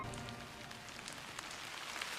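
Steady rain falls in an anime scene, a soft continuous hiss with scattered droplet patters, faint and alone.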